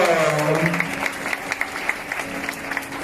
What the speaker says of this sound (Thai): ขอเสียงปรบมือกับนักแสดงสายทีนะครับ